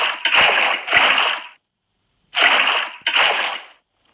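Water poured in two separate splashing bursts, each with a couple of quick surges, loud and close with silence between.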